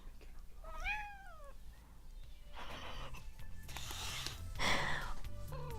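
Pet cat meowing in a home kitchen, a couple of clear rising meows up close, followed by clattering kitchen noises and rustling.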